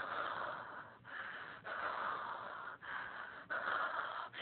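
A voice imitates scared, magnified breathing: heavy, rasping breaths drawn and released in a steady repeating rhythm, close and fairly quiet, with short pauses between each breath.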